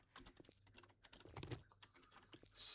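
Computer keyboard keys pressed in quick irregular bursts during a zombie survival game, close and fairly soft, with several keys hit at once.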